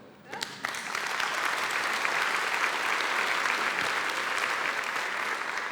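Audience applause fills a hall at the opening session of a 2019 annual forum, starting after a brief quiet moment and then holding as a loud, dense, steady wash of clapping.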